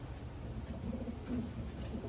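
Low, soft pigeon cooing repeats a couple of times over a steady background hiss, with no voices.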